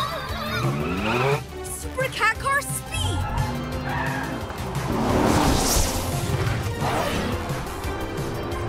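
A cartoon Cat Car speeds and skids in a chase, with tires squealing, engines whooshing and bumps over music and excited character voices.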